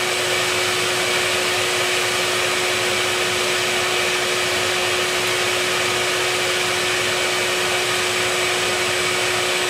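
A vacuum cleaner runs steadily and loudly throughout while sucking up wasps from a hidden nest, its constant whine and broadband roar unbroken, with no voices heard.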